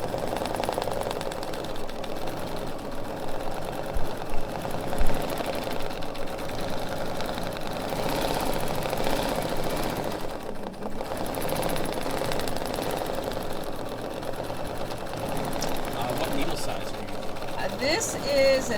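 A Bernina B770QE sewing machine stitches a thread embellishment with a 90 needle and 50 weight thread, its steady motor whir and rapid needle chatter running continuously at close range.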